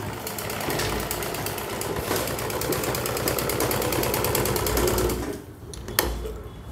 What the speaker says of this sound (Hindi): इत्थे आपां हुण सिलाई ला लेनी आ, ये छोटी सिलाई नाल लानी आ।